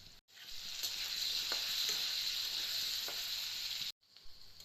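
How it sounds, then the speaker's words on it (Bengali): Potatoes with turmeric and salt hit hot oil and sizzle in a steady, bright crackle for several seconds, close by, with brief gaps at the start and end. "বন্ধুরা তেল গরম হয়ে গেছে, এতে আলু দিয়ে দেবো"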